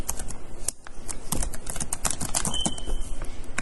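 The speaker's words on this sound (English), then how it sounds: "So you can simply type on this form" Fast, continuous clicking of keys on a computer keyboard as someone types into a form, close and fairly loud with a brief pause early on.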